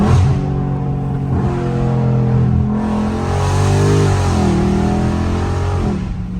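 A BMW 430i downshifts into second gear in traffic, the engine rising and falling through a loud, close rev with a sharp pitch swing and then settling into a steady drone, with no talking.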